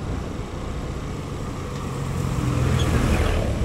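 A Suzuki Burgman Street 125 EX scooter labors up a steep uphill road at Nagcarlan, Laguna, its small engine droning steadily and swelling louder as it climbs, with broadband road and wind noise throughout.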